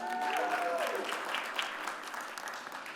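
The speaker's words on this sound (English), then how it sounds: "Can we get a round of applause for Bobby?" Steady applause from a conference crowd honouring the leader of a children and teens group, a continuous wash of many clapping hands at moderate distance, with a faint tone at the start.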